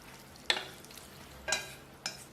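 Tofu and pork bun filling with chopped scallions, Sichuan pepper powder and seasoned oil is stirred and mixed in a bowl, giving three distinct wet scraping strokes spaced about a second apart, close and clear with no talk.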